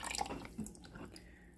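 Coffee poured into a cup or pot gives a soft, quiet trickle with a few brief drip-like splashes near the start, then fades to a faint, low wash, with no talking.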